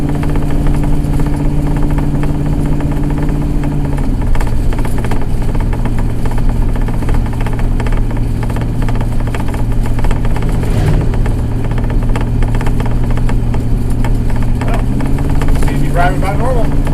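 A Winnebago motorhome's engine drones steadily while cruising down the road, a continuous loud rumble whose pitch shifts a couple of times as the revs change.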